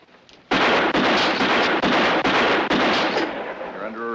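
A loud, rapid string of gunshots fired in a western movie, roughly half a dozen close blasts running into one another for several seconds, dense and booming, with no talk over them.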